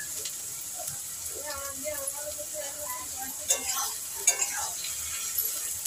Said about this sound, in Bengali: বেরেস্তাটা ভাজতে ভাজতে তোমাদের দেখাই